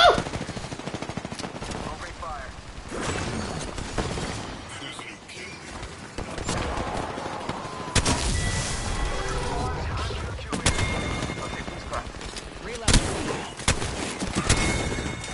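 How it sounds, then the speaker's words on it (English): Rapid automatic gunfire from the Apex Legends video game comes in repeated loud bursts, with excited voices talking over the shooting. "Opening fire."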